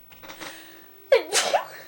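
A single sharp human sneeze after a soft indrawn breath, close and loud, closing on a brief voiced tail.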